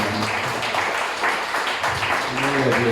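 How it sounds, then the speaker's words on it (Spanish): Brief clapping from a church congregation, a quick patter of hands that is mixed with a voice speaking over it. "Denle un aplauso al Señor."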